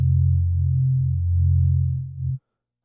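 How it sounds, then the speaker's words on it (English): A steady, pure low synthesizer sine tone held for about two seconds, then cutting off abruptly into silence. "I've got just a sample of a sine wave."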